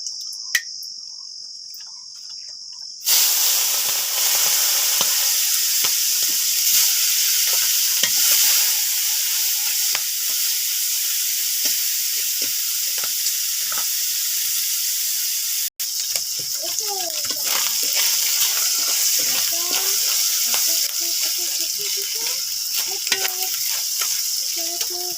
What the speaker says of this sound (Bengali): কড়াইতে তো আমি মাছ সেরকম একটা ভাজি না, তাওয়াই ভাজি, আজকে কড়াইতে ভাজবো